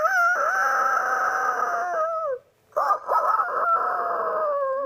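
A man imitates a rooster's crow with his voice, giving two long, strained cock-a-doodle-doo calls separated by a short breath, loud and close with no other talk.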